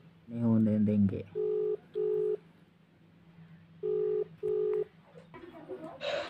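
A phone call rings with a repeating electronic tone in two pairs of short beeps, fairly loud and close, after a brief voice at the start and before another voice at the end.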